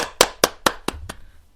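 Two people clap their hands together in a quiet studio, five sharp, close claps in a steady rhythm that trail off, sounding thin and sparse with no other noise.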